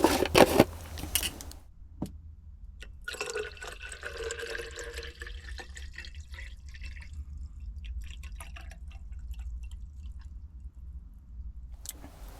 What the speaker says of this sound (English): let's put the water in